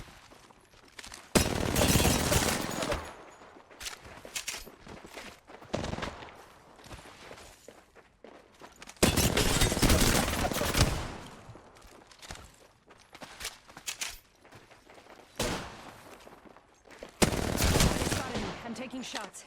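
Bursts of gunfire in the video game Apex Legends come in several loud, dense volleys separated by quieter stretches, with lighter shots and movement noise between them.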